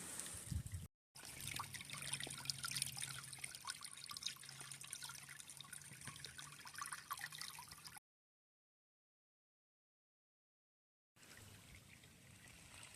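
A shallow, clear, cold creek on a summer hiking trail trickles and gurgles steadily nearby, a continuous soft stream of water with a brief break in the middle and no voices.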